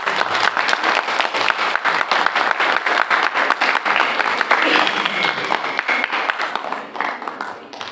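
An audience applauds after a university talk on the global inflation crisis and the media, dense steady clapping from a crowd that swells and then thins out toward the end.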